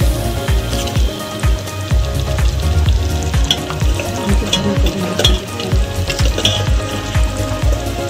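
Butter chicken sizzles loudly in a pan just after cream and kasuri methi are stirred in, a dense continuous crackle with scraping stir strokes throughout and no talking.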